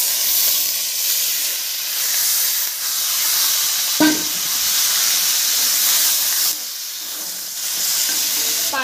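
Fish sizzling as it goes into hot mustard oil with cumin seeds, a steady loud hiss with brief crackles and a sharper spatter burst partway through, no voices.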